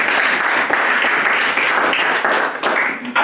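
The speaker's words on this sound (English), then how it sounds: "Can we clap our hands to God for the doctrine of the body?" A church congregation at a homegroup service claps their hands together, a dense, steady round of applause close by that keeps going without pause.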